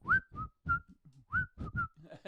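A cheerful whistled advert tune plays in short rising notes over soft plucked backing, light and rhythmic.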